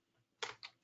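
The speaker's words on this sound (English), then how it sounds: "Or I could have just started typing" Quick keystrokes on a computer keyboard while searching inventory items in Sage 50 accounting software: a short burst of clicks, then a second burst and a final tap, fairly faint and close with no talking.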